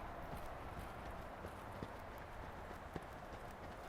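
A horse trots in a riding arena with steady clip-clop hoofbeats, faint and distant under a constant background hiss.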